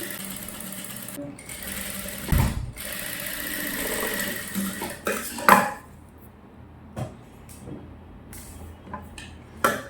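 Sewing machine running slowly while stitching a child's gown lining, a steady mechanical whir broken by pauses and clinks of handling, with brief sharper knocks.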